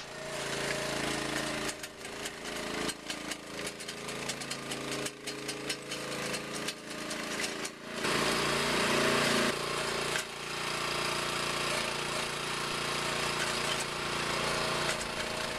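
A self-propelled trencher cuts an irrigation trench in a front yard, its engine clattering and chopping loudly and continuously, dipping and surging for several seconds before settling into a steady, rough grind.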